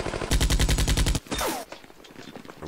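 Mortar fire in a Vietnam War mod video game, a rapid burst of loud gunfire-like thumps followed by a sharp blast and fading whistling debris.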